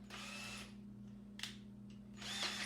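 Power drill with a screwdriver bit whirring in two short bursts, at the start and the end, with small clicks between, fairly close and alone with no talk.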